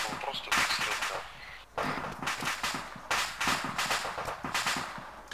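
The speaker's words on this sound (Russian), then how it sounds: "По нам огонь." Gunfire and explosions in the video game ArmA 3 crack out in repeated sharp bursts, loud and close, with players talking over and between the shots.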